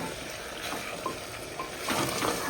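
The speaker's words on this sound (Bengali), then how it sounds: "একটু নাড়া দিয়ে নিই।" Mutton with spices is stirred as it sautés in a pot, a steady sizzle and frying hiss with soft scraping and clinking of the spoon against the pot throughout, close and fairly quiet.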